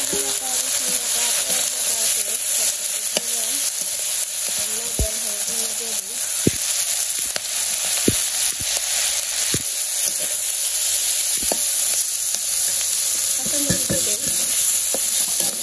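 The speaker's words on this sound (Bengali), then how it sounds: "কড়াইতে তেল দিয়ে দিই জিরা আলু সব দিয়ে দিই" Animal skin, cumin, potatoes and onion fry in oil in a wok, giving a loud, constant close-up sizzle broken by sharp clicks and scrapes of stirring.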